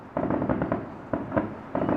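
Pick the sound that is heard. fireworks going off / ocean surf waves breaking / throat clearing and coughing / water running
fireworks going off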